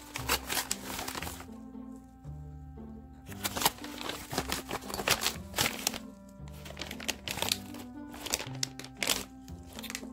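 A package being opened by hand, its plastic wrapping crinkling and crackling in dense bursts with brief pauses, close and fairly quiet, with no talk over it.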